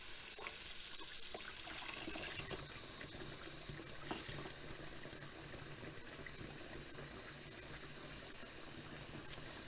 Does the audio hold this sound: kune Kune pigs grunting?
no